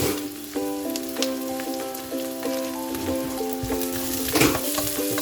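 Garlic frying in a pan for pork adobo, a close, steady crackling sizzle with occasional spatula scrapes, while a sustained tonal hum runs underneath and no one speaks.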